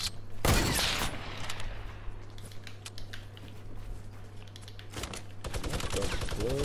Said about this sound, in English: Yo, are you shooting at me already?